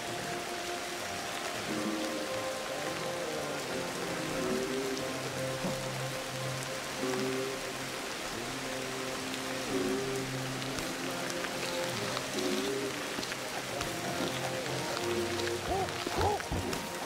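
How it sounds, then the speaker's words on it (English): Steady rain patters down in the prehistoric survival game Ancestors: The Humankind Odyssey, an even hiss on the ground and foliage that runs the whole time, with soft musical tones faintly beneath. "Stop raining!"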